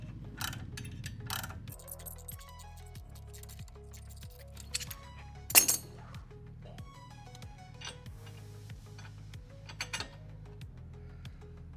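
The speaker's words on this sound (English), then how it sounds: "switch over to a socket or ratcheting wrench like I have here. And you'll see it start to slowly push the wheel stud out." A ratcheting wrench turns to slowly press a front wheel stud out of a Camaro hub, giving quiet, regular clicking ratchet strokes with a few sharper metallic clanks, close and alone.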